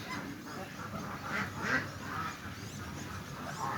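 Blue Swedish ducks quack and honk a few times over a faint outdoor background, not very loud.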